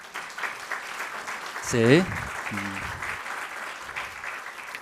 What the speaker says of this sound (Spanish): hermanos, ya aplauso.